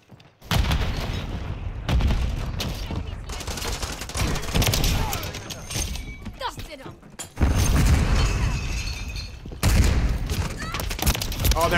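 Gunfire from the video game Call of Duty: Modern Warfare III, with bursts of shots and booms in loud, dense game audio that runs the whole time, and a player talking over it.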